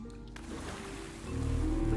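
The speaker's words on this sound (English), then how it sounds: "Now jump in the water." A character leaps into the water in the Monkey Island 1 adventure game, giving a low watery splash and churning over a steady rumbling backdrop that swells louder toward the end.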